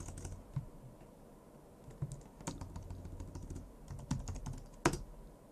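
Computer keyboard keys clicking as a command is typed for the pass password manager, scattered quick keystrokes at close range with a few sharper taps and a low room rumble, no voices.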